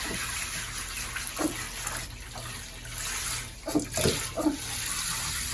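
Water rinses a Pomeranian puppy during a home bath, a steady running-tap hiss with a few louder splashes and gushes near the end.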